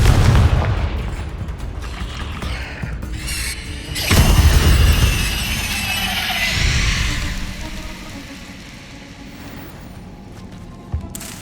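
A Confringo fire spell detonating in Hogwarts Legacy, a loud booming blast at the start and a second heavy explosion midway, each rolling off into a long rumbling decay with no talking.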